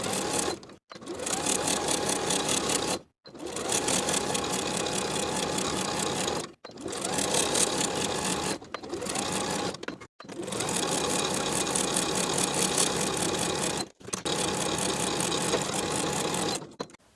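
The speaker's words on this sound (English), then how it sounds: "seam in one continuous series of stitches, from the bottom of the sleeve across the underarm seam into the bottom of the garment with a 3/8 inch seam allowance" Sewing machine stitching the side seam of a knit cardigan runs in long loud continuous bursts of rapid stitching, broken by several brief pauses, with no talk.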